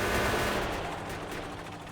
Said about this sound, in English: Now here I'm gonna have to use my guns.